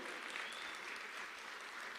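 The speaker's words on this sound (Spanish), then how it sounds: "¿Cuánto le dan un aplauso al Señor?" A church congregation claps for the Lord in a brief, even burst of applause, soft and somewhat distant with no voices over it.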